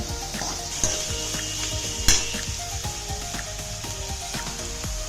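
Chopped onions sizzle in hot oil in a pan beside green chillies while sabudana khichdi is being cooked. A steady frying hiss is broken by a few sharp metallic clinks of stirring, with no one talking.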